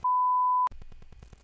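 A single loud, steady electronic phone-call notification tone holds for about half a second, then cuts off into a quick run of rhythmic low clicking pulses.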